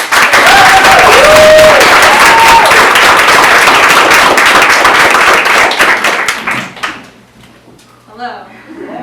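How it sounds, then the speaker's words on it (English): Audience applause welcoming a reader at a student poetry reading night, loud sustained clapping with a few whoops for about six seconds, then fading out into scattered claps and quiet. "So please welcome Anna with some applause."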